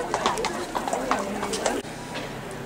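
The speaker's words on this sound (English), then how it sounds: "These horses are going in to be vet checked." Horses' hooves clip-clop on the ground in the lineup for a vet check at a horse show, a few distinct, irregular hoof strikes heard under steady nearby talk.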